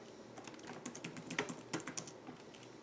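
Quiet keystrokes on a computer keyboard, irregular clicks pattering near the mic with a few sharper taps, no voice present.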